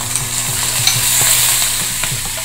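Urad dal and cashews fry in hot oil, giving a steady, close, loud sizzle with occasional stirring scrapes throughout.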